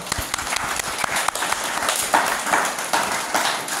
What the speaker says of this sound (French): maintenant que vous avez applaudi, vous pouvez vous rasseoir